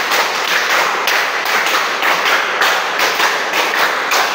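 A classroom of students claps together in a counted pattern, sharp bursts of many hands striking in rhythmic groups, loud and close, with no talking over it.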